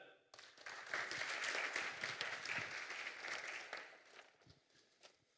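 Sustained audience applause for a panel at the L2 Days conference, Devconnect Istanbul 2023: many hands clapping fill the room, starting abruptly, holding steady, then thinning out toward the end.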